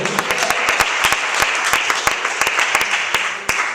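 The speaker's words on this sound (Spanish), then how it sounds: "Dale un fuerte aplauso a su gloria, querido hermano" A church congregation gives a loud round of applause during a Spanish-language sermon, a dense burst of many hands clapping close by with sharp individual claps standing out, sustained throughout.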